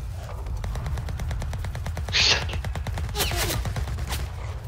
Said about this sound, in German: Schüsse von rechts.